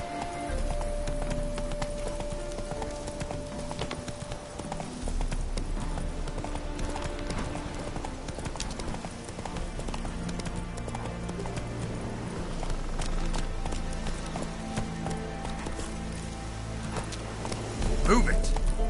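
Roach, Geralt's horse in The Witcher 3, gallops with a fast, steady clip-clop of hooves that runs the whole time over game music, with a brief whinny near the end and a voice speaking now and then.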